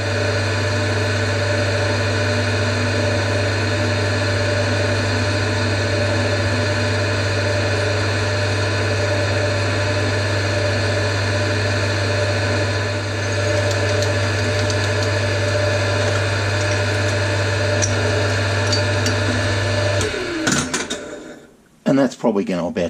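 A drill runs at a steady, droning pitch as it bores a hole through steel, continuous for a long stretch before cutting off abruptly.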